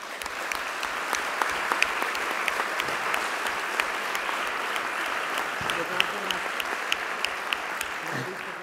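A crowd at a political talk applauds warmly and continuously, producing a dense, steady wash of many hands clapping that lasts throughout.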